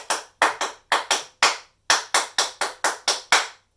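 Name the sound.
clapping out a tap dance rhythm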